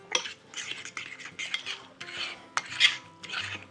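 Sweet pepper rings are dipped and stirred through batter in a bowl, giving repeated close scraping and clinking of utensil against the dish with short wet dabs in between.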